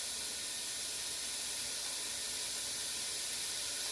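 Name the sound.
Italian sausage browning in pot with onions and garlic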